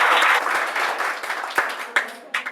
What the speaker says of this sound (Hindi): ताली तो बजना चाहिए।